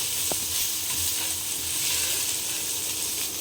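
Spices and cauliflower roast in a hot pan, filling the clip with a loud, continuous close-up sizzle and faint stirring scrapes, with no one speaking.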